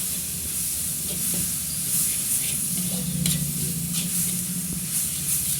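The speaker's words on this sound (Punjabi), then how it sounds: "ਹੁਣ ਇਹਨੂੰ ਜਿਵੇਂ ਮਸਾਲਾ ਬਣਾਉਂਦੇ ਆ ਨਾ ਇਦਾਂ ਆਪਾਂ ਚੰਗੀ ਤਰ੍ਹਾਂ ਭੁੰਨ ਲੈਣਾ" Bitter gourd in a tomato paste masala sizzles and fries in a pan while being stirred, a steady loud hiss with scraping strokes of the spoon running through it.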